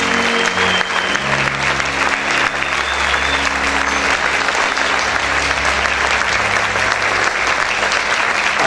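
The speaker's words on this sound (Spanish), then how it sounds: "Dele ese fuerte aplauso al Señor." A church congregation applauds loudly and continuously, with dense, sustained clapping from a large crowd and a sustained low musical tone underneath.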